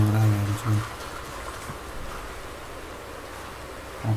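Rain pours in Red Dead Redemption 2, a constant hissing patter that continues steadily, with a voice speaking briefly at the start and end.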